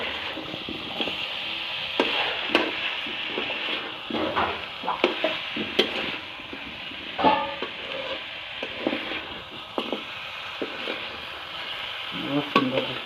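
Chicken leg pieces fry in masala in a pan, with a steady sizzle, and a spoon stirs and scrapes at irregular intervals throughout.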